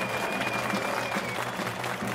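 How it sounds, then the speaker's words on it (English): A crowd applauds in approval, steady broadband clapping filling the whole clip at moderate level with no talk over it. "The crowd applauds in approval of the plan."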